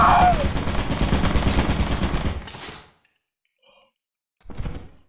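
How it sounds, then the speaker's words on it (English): Machine gun turret firing in Lethal Company, a rapid, loud burst lasting a few seconds that cuts off abruptly, followed by a faint sound and a short final thump. "the machine guns are just like around the corner and you can easily die by them"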